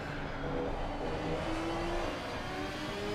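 Race cars in a sim racing game run down the front straight into turn 1 at Misano, engines droning and whirring steadily at high revs, a continuous moderately loud blend with no talk.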